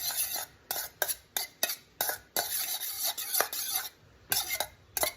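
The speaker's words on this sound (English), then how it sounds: "we're going to mix it up and make our taco pizza sauce" Taco pizza sauce mixed briskly in a bowl, a spoon scraping and rasping in repeated bursts separated by brief pauses, loud and close with no voices.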